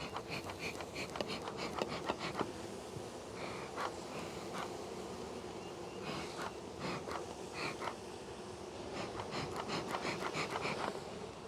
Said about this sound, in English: let's see if we can smoke some bees down a little bit